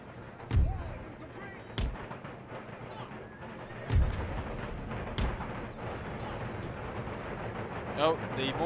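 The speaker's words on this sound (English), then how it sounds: "Oh, the mortars are now bombarding our columns." Mortar fire in Empire Total War: several heavy booms land a second or more apart over an ongoing battle rumble, with a voice talking over the bombardment.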